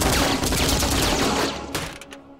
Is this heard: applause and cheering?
no